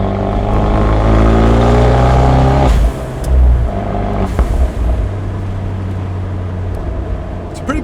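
An Abarth 124 Spider with its exhaust valves open revs loudly from inside the car, then lifts off into crackling pops, bangs and burbles, with the engine droning on afterward.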